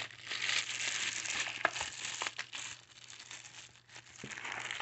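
Oily plastic bag crinkles and rustles continuously as a new stainless steel Taurus 856 .38 Special revolver is worked out of it, close and fairly steady with a few sharper crackles.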